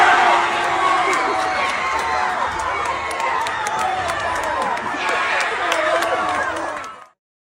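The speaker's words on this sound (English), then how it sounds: "audience members would film themselves saying the phrase, Chicken Jockey! Along with Jack Black before screaming and cheering at the top of their lungs" A movie-theater audience at the Minecraft movie screams and cheers at the top of their lungs, a dense, loud, sustained roar of shouting voices that cuts off abruptly at the end.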